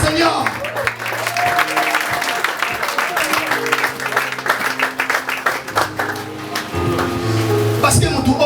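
Church congregation at a deacon consecration service applauding and acclaiming the Lord, sustained clapping and cheering over music, loud and continuous with voices mixed in.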